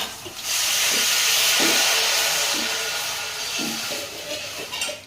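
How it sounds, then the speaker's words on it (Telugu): Tamarind juice is poured into a pan of ginger garlic paste frying for a fish curry, setting off a loud, sustained sizzling hiss that runs for several seconds and slowly eases. "అల్లం వెల్లుల్లి పేస్ట్ మంచిగా ఫ్రై అయిపోయింది. చింతపండు రసం అయితే వేసేసుకుంటున్నాం."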